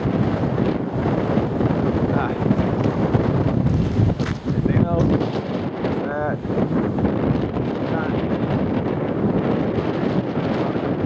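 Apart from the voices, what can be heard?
wind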